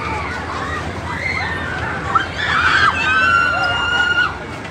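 Crowds of riders on a spinning fairground ride scream in rising, overlapping shrieks. The sound swells louder toward the middle over a busy, noisy background.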